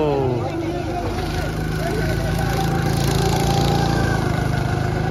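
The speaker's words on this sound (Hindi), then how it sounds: "भाई ये बाइक चलाने का अपना ही मजा है" A motorbike engine runs at a steady idle-like throb, close and continuous throughout, with people talking over it.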